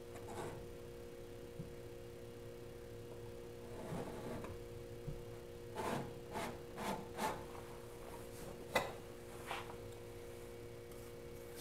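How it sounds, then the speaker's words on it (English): Paint being scraped off a canvas painting with a knife, a few short quiet rasping strokes in irregular bursts against a faint steady hum. "Scraping the paint off like that does two things."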